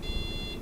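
Beep from an old PC motherboard at its power-on self-test, a single steady electronic tone held for most of the moment over low background hum, then cut off.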